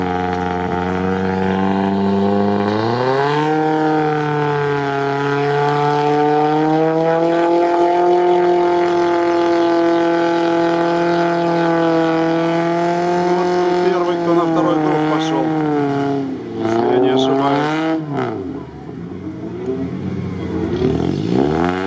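Lada Niva off-road car pulling away after an anchor winch recovery at an off-road trophy event, its engine revving steadily and rising in pitch over about twenty seconds, loud and close, with people talking over it.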